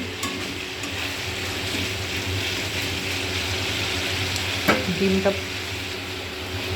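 Curry spice paste being stirred and fried in hot oil, a steady close sizzle running throughout with brief scraping stir sounds near the end.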